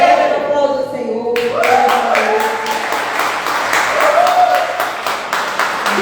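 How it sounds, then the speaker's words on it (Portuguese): A church congregation breaks into applause partway through, sharp clapping starting suddenly and continuing unevenly over lingering voices and a sustained tone from the room. "Aplauda o Senhor"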